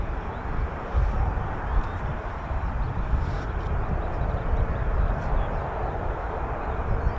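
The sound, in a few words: Spanish Air Force EF-18 Hornet jets taxiing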